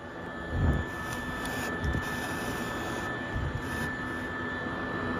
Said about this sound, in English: why do it by hand when I've got a vacuum to capture it all?